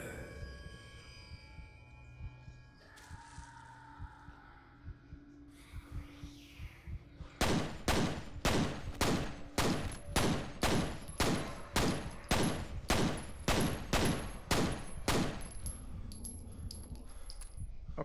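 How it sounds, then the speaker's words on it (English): Rapid gunfire from a weapon in the shooter game F.E.A.R.: after a quieter stretch, a long run of loud, evenly spaced sharp shots, about fifteen in a row, with brief ringing gaps between them. "I thought I was shooting as fast as the gun would let me shoot"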